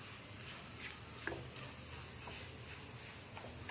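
Kachori filling of moong dal with red chilli powder and garam masala being sautéed in a pan, giving a faint steady sizzle with a few light spoon taps and scrapes, no voices.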